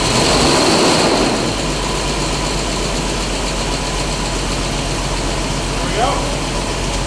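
Forgotten V12 car engine running after sitting for 20 years, a steady, loud idle rumble that holds throughout, with a faint swell partway through.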